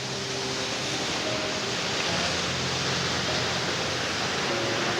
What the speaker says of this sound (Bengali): দেখা যাচ্ছে ঝর্ণা কি গতিতে আসছে